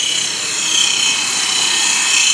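A diamond bit bores 1.5-inch holes through landscape rocks for a bubbling rock water feature, giving a steady, loud, harsh grinding hiss that runs continuously with no pauses.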